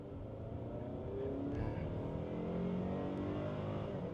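A car accelerating hard on a test drive on a busy road, its engine droning loud and steady and rising slightly, heard from inside the cabin.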